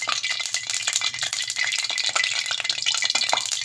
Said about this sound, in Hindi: अब मैं इसको ऑयल में फ्राई करूँगी।